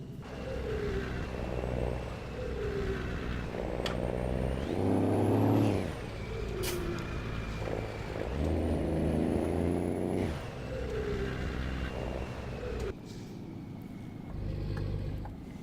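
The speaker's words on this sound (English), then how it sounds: "And the blow-off noise as well." A DAF XF Euro 6 truck in Euro Truck Simulator 2 rumbles and revs through a turn, with sharp hissing bursts of turbo blow-off and air brake release cutting in several times over the engine drone.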